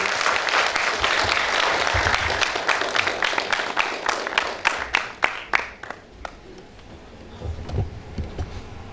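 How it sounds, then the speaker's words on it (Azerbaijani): An audience at a 70th jubilee ceremony breaks into sustained applause, dense clapping that fades into scattered individual claps toward the end. "Alqışlarınız gəlsin."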